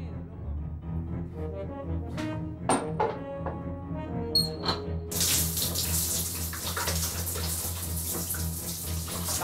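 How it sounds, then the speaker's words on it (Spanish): Shower water starts running at about five seconds, a steady broadband hiss that continues to the end, following a few clunks, faint speech and a low hum. "Se viene la tradicional ducha."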